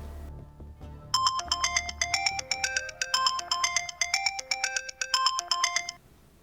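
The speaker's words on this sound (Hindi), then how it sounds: "जहांगीर खान का फोन आया लाला जी" A mobile phone ringtone plays for an incoming call, a bright repeating electronic melody that starts after a second of low background hum and loops steadily and clearly for about five seconds before cutting off.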